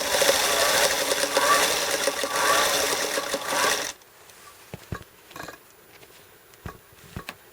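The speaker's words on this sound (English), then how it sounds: "I flip it over in this way so I can see what I'm doing when I sew my 1/4 inch seam" A sewing machine stitches a quarter-inch seam on a quilt-as-you-go quilt block, running loud and steady for about four seconds before stopping, followed by a few faint clicks and handling noises.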